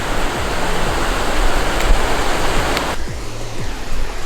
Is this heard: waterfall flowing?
yes